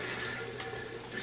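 Steady, soft liquid trickle and gurgle as a hand siphon pushes berry melomel from one vessel to another, continuous and close, with a faint plastic squeak partway through.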